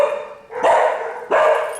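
Dogs bark loudly and close by in two sharp bursts, each trailing off before the next, with no one speaking over them.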